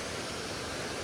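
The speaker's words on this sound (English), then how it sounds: "We made it to the waterfall." A waterfall near La Fortuna and Arenal Volcano in Costa Rica: a dense, steady roar of falling water filling the whole brief moment, with no voices.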